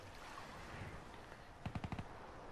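A quick burst of five or six gunshots in rapid succession rings out near the end, following a quiet, hissy stretch, from a Black Ops 3 Prop Hunt game.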